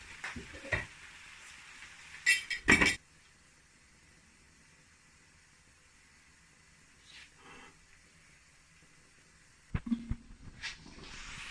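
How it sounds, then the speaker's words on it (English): A lid goes onto a pot of Bangladesh-style vegetable curry with a couple of brief clattering knocks, then quiet low simmering, another short clink near the end. "Put the lid on."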